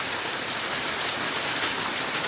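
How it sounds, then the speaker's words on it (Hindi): Continuous unseasonal rain falls over a village, a loud, even, unbroken hiss of drops with no pauses and no voices. "लगातार बारिश हो रही है, थम ही नहीं रही वर्षा"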